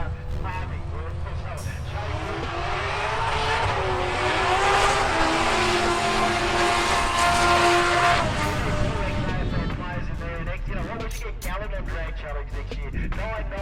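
A VL street car with a supercharged LSA V8 and a Turbo 400 transmission makes a drag pass, its engine roaring and rising in pitch through the run before fading, loud and fairly close.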